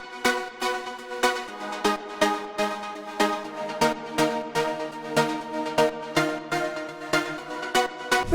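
Warm deep house synth chords pulse in a steady, even rhythm, repeating a short progression with soft rounded attacks and no voices.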